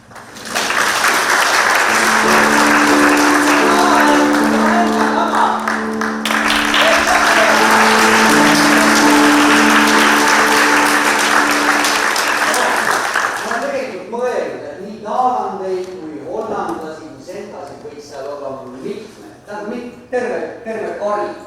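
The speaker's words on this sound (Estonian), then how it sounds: "Aplaus." Loud, sustained applause from the audience at a 2024 Tartu performance of Wagner's opera The Flying Dutchman, with held musical tones underneath. After about thirteen seconds the clapping fades into quieter talk.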